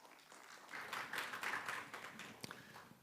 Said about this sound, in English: Let's give a warm round of applause for Intuitive Care.